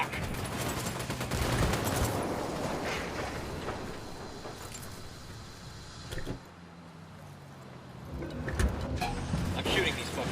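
Sustained gunfire during a convoy ambush in Ghost Recon Wildlands, dense shots mixed with vehicle and combat noise, loud early and then easing, with voices talking over it and a few sharp bursts near the end.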